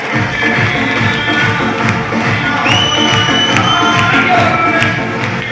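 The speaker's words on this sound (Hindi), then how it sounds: "इसलिए ग्रेट गुरु जी के लिए एक बार हमारी तरफ से जोरदार तालियां" A crowd cheers and shouts loudly and continuously, with scattered clapping and excited voices blending into a dense, sustained roar.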